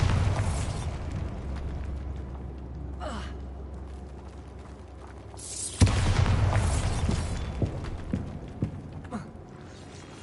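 A Bombarda spell explosion in the video game Hogwarts Legacy bursts out once, sudden and loud, about halfway through, then leaves a rumbling tail with scattered pops over steady low game ambience.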